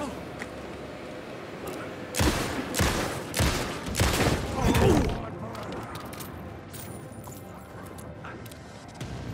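Gunshots in Alan Wake 2 inside a subway, four or five sharp reports fired in quick succession, moderately loud over quiet ambience, with a voice speaking faintly nearby.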